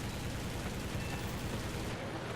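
Continuous machine-gun fire from the aircraft guns of a Ki-44-II Hei Shoki fighter in War Thunder air realistic battle, a loud, dense, unbroken roar of rapid shots filling the whole stretch with no voices.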